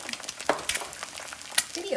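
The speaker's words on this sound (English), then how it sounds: "my eggs are frying gently" Eggs frying gently in a pan, giving a soft, steady crackle with scattered small pops, close by and fairly quiet, with a few faint clinks mixed in.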